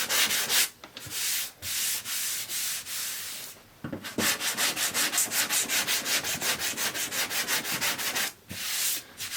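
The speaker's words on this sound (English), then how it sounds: "You just want to gently sand that." Repeated back-and-forth strokes of hand sanding a curved car fender with a flare block, a steady rhythmic rasp with brief pauses, close and fairly loud, no talking.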